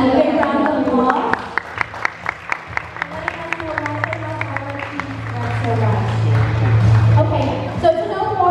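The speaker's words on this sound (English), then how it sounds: "Let's give our guests a big round of applause." Audience applause at a product launch for an Arla cheese spread: a crowd claps in a dense burst that swells and then trails off, while a voice speaks over it and a low hum sits underneath.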